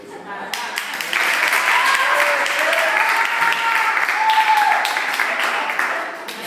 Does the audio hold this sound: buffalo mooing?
no